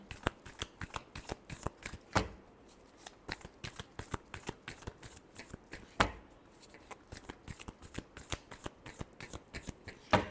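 Tarot cards being shuffled by hand, with rapid crisp riffling bursts in a steady rhythm, a couple of sharper taps between runs, close and clear without speech.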